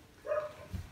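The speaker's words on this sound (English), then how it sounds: "Sorry about the dog." Single dog bark, short and faint, sounding somewhat distant in an otherwise quiet space with no talk.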